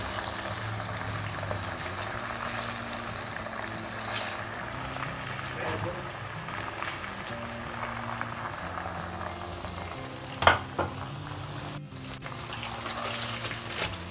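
Chicken pieces fry in oil until golden brown with a continuous, even bubbling sizzle, and one brief clatter of a piece being turned near the end.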